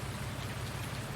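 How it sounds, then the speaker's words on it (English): Dense, steady rain pours in a farming video game, an even hiss of drops with a low rumble beneath, continuous and unbroken. "Rain is here."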